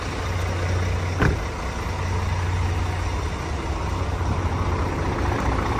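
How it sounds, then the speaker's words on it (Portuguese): A heavy truck engine rumbles steadily at idle close by, a low continuous drone that holds through the whole stretch, with one brief sharper transient early on and no talking. "Vou até fechar esse vídeo com, com o ronco desse motor aqui que vocês merecem."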